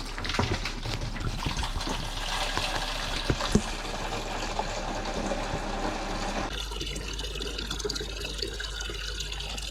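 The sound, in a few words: filling a water jug for washing dishes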